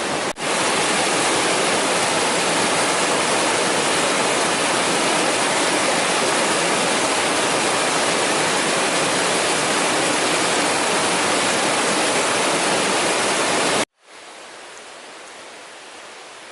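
Loud, constant roar of a waterfall in Linville Gorge, an unbroken wash of rushing water that suddenly cuts to a much quieter, more distant rush near the end.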